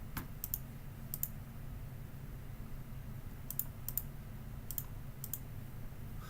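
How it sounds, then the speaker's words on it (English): A computer mouse being double-clicked in an office setting, giving a few crisp, close paired clicks spaced apart over a steady low hum with no talking. "Maybe I should double click it."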